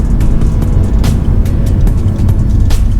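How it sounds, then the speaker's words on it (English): A 2019 Honda Civic Touring accelerating, with a steady, loud low engine and road rumble running throughout and a few brief higher whooshes over it. "you just step on that pedal and it will actually give you so much feedback"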